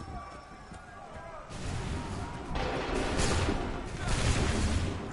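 Soldiers fire a musket volley in Assassin's Creed 3. After a quieter opening, several loud, rolling bursts of gunfire follow one another, with voices mixed in.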